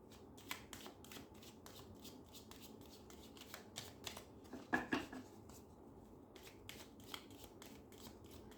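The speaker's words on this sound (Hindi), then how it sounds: "एक आखिरी कार्ड निकाल देती हूँ" Cards drawn and shuffled from a tarot-style deck at close range: steady quiet papery riffling and flicking throughout, with a slightly louder snap near the middle and no talking.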